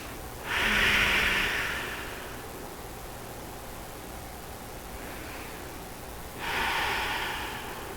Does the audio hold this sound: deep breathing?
yes